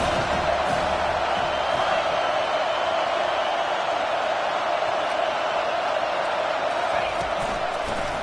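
Football stadium crowd roaring steadily for the defense on a big third down, a dense wash of cheering and shouting that holds at full volume throughout without a break.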